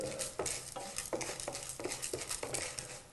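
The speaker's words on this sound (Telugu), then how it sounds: "ఇందులోనే 3 టీ స్పూన్స్ శనగపప్పు, వేసి ఆయిల్లో ఫ్రై చేయాలి." Chana dal fries in oil in a pan while it is stirred. Regular close scraping strokes, about three a second, sit over a soft sizzle.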